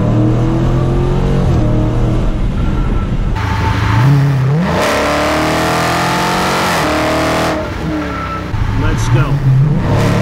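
Dodge Challenger exhaust recorded while driving with both windows down, a loud engine drone rising and falling as it revs and shifts, mixed with heavy wind rush and speech over it.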